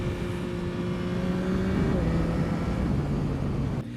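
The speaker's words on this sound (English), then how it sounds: "I've got no problems putting the bike into first gear like this and letting the bike just slow me down, letting the engine do the job" Yamaha MT-09 motorcycle engine braking in first gear, a loud close steady engine drone whose pitch drops smoothly as the bike slows, with road and wind rush underneath.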